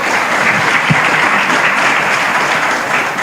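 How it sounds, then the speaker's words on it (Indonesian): An audience at an education and philosophy discussion bursts into dense, loud applause that holds steady for several seconds, close and continuous with no talking. "Tepuk tangan dong."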